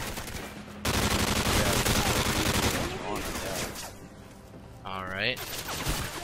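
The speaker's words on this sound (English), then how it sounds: "I am like hardcore hip firing right now" Hip-fire gunfire in Modern Warfare 3 multiplayer: dense, rapid automatic bursts crackle up close almost continuously, with a brief pause and a rising weapon or effect sound near the end, while players talk over it.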